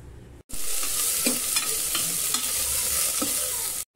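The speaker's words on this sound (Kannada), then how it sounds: "ಇವಾಗ ಇದರಲ್ಲಿ ಸ್ವಲ್ಪ ಆಯಿಲ್ ಹಾಕ್ಬಿಟ್ಟು ನಾನು ಫ್ರೈ ಮಾಡ್ಕೊತೀನಿ" Oil sizzles steadily in a steel pressure cooker on the stove, a continuous loud hiss for several seconds with a few soft stirring knocks, starting and stopping abruptly, no voices.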